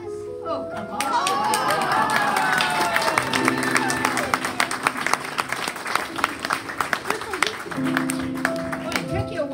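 Audience applause at an embassy fun night show finale, a sustained crowd clapping with some cheering, heard beneath music and a speaking voice.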